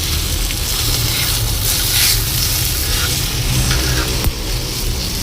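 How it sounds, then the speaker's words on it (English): Spices being stirred into potatoes on a hot plate for spicy aloo, a loud, steady sizzle with scraping stirs running continuously and close, one sharp clack near the end and no talk. "Let's just mix this beautiful spices into the potatoes."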